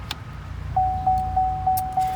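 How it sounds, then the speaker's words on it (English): Inside an SUV, a headlights-left-on warning chime rings five times in an even, steady rhythm about a third of a second apart, clear and close, with faint rustling before it starts. "That's just the car saying, don't leave the headlights on."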